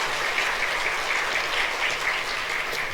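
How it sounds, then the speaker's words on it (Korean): A church congregation claps warmly to welcome a new preacher, an even, close burst of many hands applauding at steady volume for a few seconds without talk. "우리 큰 박수로 축복하겠습니다"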